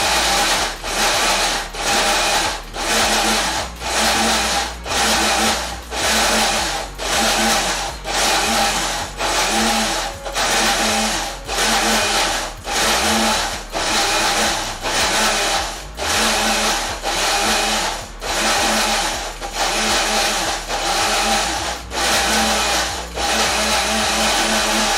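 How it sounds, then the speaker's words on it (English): A Ninja Ultra Prep blender runs in rapid repeated pulses, each burst a loud motor whir that cuts off briefly, keeping a steady rhythm for a long stretch while carrot, cucumber and blueberry are blended for juice and smoothie. "We're being very careful with this Ninja Ultra Prep blender."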